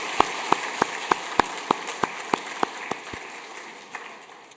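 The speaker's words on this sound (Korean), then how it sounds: "큰 박수로 환영하겠습니다." A congregation at a Korean Sunday church service claps in slow, even unison, about ten sharp claps spaced evenly apart that fade toward the end, with no talking.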